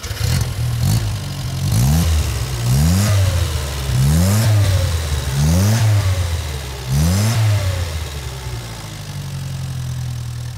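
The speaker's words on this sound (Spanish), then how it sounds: "El motor del 600S, motor código 127038, como lo codificaba Fiat, Concord y Sebel posteriormente, 843 centímetros cúbicos" A 1982 Fiat 600S with its 843 cc engine revs hard about six times in a steady rhythm, each surge climbing and falling back toward idle. The engine is loud and close, with no voices.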